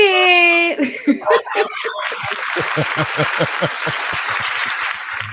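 A short voice is followed by a burst of clapping from a crowd, steady and sustained, with some laughter mixed in.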